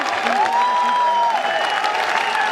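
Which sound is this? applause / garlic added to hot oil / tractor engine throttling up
applause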